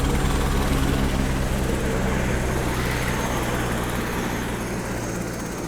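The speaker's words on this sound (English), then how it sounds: "here comes my helicopter" A helicopter arrives near a mineral prospect, its close, loud rotor chop thudding in a rapid steady rhythm over engine whine, fading very slightly, with no talking.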